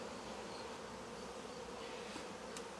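Honey bees buzzing in a hive during a first inspection of a swarm, a dense continuous drone heard close and steady throughout.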